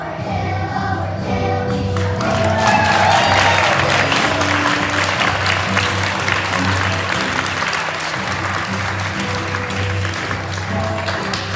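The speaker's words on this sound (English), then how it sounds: "audience, we will clap for whoever is standing and we will recognize you" Sustained applause from an audience at a school Veterans Day concert for third graders, steady and dense clapping filling the room without a break, with a hint of crowd murmur beneath.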